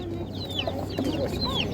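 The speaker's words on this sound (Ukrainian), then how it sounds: "Є ще домашні такі от курчата." Chickens cluck and chirp repeatedly over a busy background murmur at an animal market in Ivano-Frankivsk, several birds close by in a lively outdoor setting.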